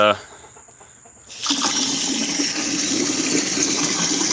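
After a brief quiet moment, water begins pouring steadily into a container holding Apis Biologix Control and sugar mix, a continuous rushing splash that stays loud and close.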